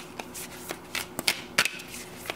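A deck of tarot cards is flipped and shuffled by hand at close range, giving soft riffling bursts and sharp slaps and flicks in an uneven rhythm, quiet and with no talk.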